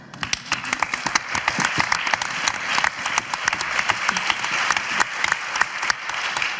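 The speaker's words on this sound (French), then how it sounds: "Je vous applaudis pour la déclamation." Dense, sustained applause from a theatre audience during a staged debate, many hands clapping steadily and loudly throughout with no break.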